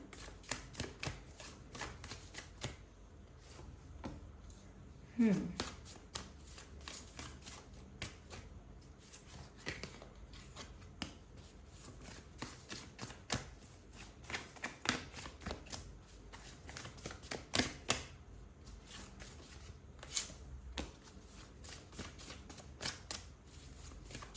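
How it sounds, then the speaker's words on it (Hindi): Tarot cards handled and shuffled at close range, a long run of rapid riffling flicks and soft slaps with brief pauses between bursts, no talking. "चलिए इन कार्ड्स को अरेंज करते हैं सबसे पहले"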